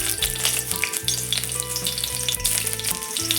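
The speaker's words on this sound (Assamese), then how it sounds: "এইফালে কেৰাহীত তেলখিনি গৰম হোৱাৰ পিছত পিঁয়াজ দি" Onions frying in hot oil in a wok, with a loud, steady sizzle running alone throughout for a preparation of papaya flowers and potato.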